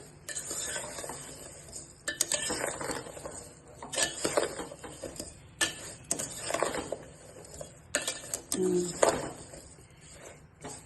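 Sugar being stirred into mango pieces for homemade mango candy, with uneven bursts of scraping, clinking and wet rustling against a bowl, close up and moderately loud, with brief gaps between strokes.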